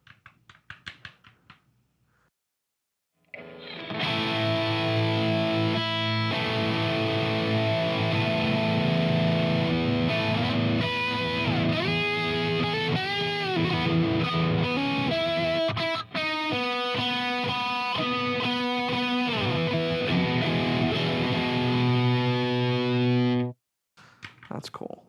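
Distorted electric guitar played through an EVH amp model on a Fender Tone Master Pro, sustained chords and riffs ringing loud and continuous for about twenty seconds after a brief quiet start, then cutting off.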